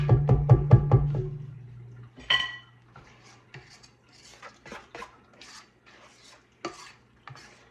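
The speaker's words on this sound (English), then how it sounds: "Just going to scrape this down and then scrape the sides of my pan" A spatula scrapes batter around a mixing bowl and then along the sides of a loaf pan, starting with a quick run of clinks followed by scattered soft scrapes and taps, close by.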